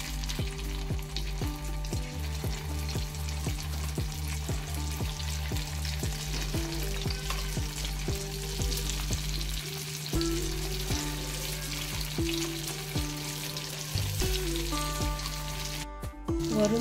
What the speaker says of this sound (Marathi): आता आपण हे एक एक तेलात सोडणार आहोत. आपण हे शॅलो फ्राय करणार आहोत,